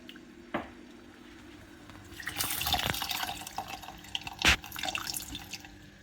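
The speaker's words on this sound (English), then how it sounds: "I'm squeezing the flavor or the pulp and taking only the tamarind juice" Tamarind pulp is squeezed by hand in a bowl of water, giving faint wet squishing and trickling with a few small splashes and drips, close and quiet, no talking.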